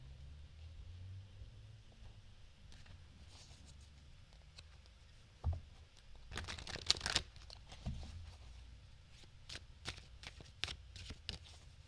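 Tarot cards are handled and drawn in a quiet room, with soft shuffling rustles and a burst of quick snapping flicks in the middle, then scattered light taps and slides, and no talk.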